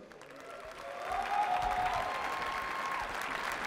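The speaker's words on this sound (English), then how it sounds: "So big applause, please." A crowd at a football match between esports teams breaks into applause during team introductions, swelling after a second and holding steady, with some light cheering mixed in.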